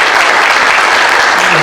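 Audience applause for the guest Zague, a former Corinthians player, at a live stage event; dense, steady clapping fills the whole stretch without a break.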